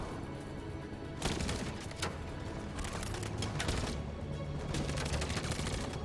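Covering gunfire rattles in Detroit: Become Human, dense bursts of shots repeating at moderate loudness over a continuous background of battle noise.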